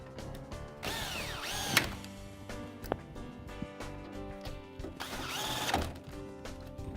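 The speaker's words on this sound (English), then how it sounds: "Once they're hand tightened, we can use our driver to put them in the rest of the way." A power driver runs in two whirring bursts, driving button head screws into an aluminium extrusion rail assembly, with ratcheting clicks and light handling noise between the runs and no talk.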